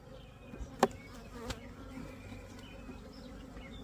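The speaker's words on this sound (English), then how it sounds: "There's so many bees in here" Honey bees buzz in a hive opened for splitting, a faint, steady drone with a few close thumps and clicks early on, no talking.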